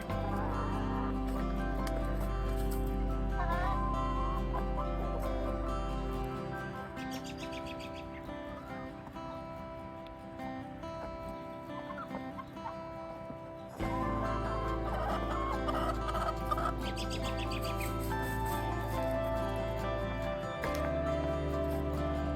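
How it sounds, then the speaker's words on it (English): Easter egger hen clucking and calling among other hens and birds in a backyard coop during spring, repeated close calls over a steady background, with a quieter stretch in the middle. "Snapdragon's one of my OG chickens. She's an Easter egger"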